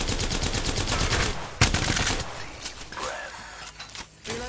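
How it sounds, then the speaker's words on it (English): Rapid automatic gunfire in a PS4 shooter game, a dense stream of loud bursts with one sharp blast and scattered shots trailing off toward the end. "Opening fire."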